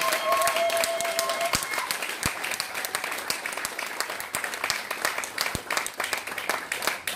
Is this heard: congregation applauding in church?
yes